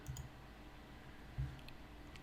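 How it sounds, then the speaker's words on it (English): Two soft computer mouse clicks, close and faint, separated by about a second of quiet. "I'm going to go ahead and click on it."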